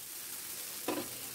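Dosa batter poured onto a hot pan for a bread dosa, a sudden close, bright sizzle bursting up briefly over a steady background hiss.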